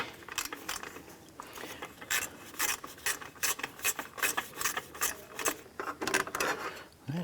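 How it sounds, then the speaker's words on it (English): A 10mm bolt under the radiator and expansion-tank bracket being removed on a 2004-2008 Acura TL: quick, fairly quiet runs of ratchet clicking and metallic rubbing, repeated in bursts. "We want to go ahead and remove our 10mm bolt right underneath here."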